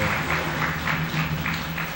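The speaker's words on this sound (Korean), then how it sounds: "다시 한번 큰 박수 한번 해주시기 바랍니다" Congregation applauding together in a church during a Sunday morning service, steady dense clapping held at even volume through the whole stretch with a low hum beneath.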